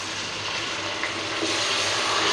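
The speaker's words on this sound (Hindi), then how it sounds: "लहसुन भी फ्राई हो चुका है, बहुत अच्छी खुशबू आ रही है लहसुन के फ्राई होने की" Garlic and ginger paste fries in a pan with lightly browned onion, giving a steady, close hiss and sizzle that continues evenly throughout.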